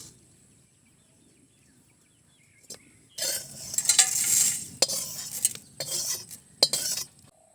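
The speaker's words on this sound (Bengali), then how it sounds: "গরম মশলাগুলো ভেজে নিয়েছি, এবার নামিয়ে দেবো।" Whole spices fry in hot oil as a spoon stirs and scrapes the pan for a tribal family's chicken liver and ridge gourd meal, with quiet at the start, then dense sizzling and sharp metallic clinks and scrapes.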